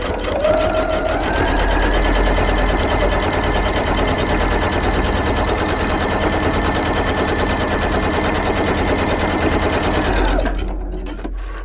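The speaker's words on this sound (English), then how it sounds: "So again, sewing the big X from one corner to the other corner." A sewing machine stitches a large X across fabric for a bowl cozy. A steady, loud, rapid mechanical chatter runs close up for about ten seconds, then stops.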